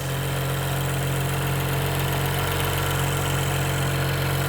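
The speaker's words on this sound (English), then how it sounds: "Everything is idling nice and smooth." BMW N55 engine in an F30 335i idling after a fuel injector install, a steady smooth low hum with even mechanical vibration, close and alone.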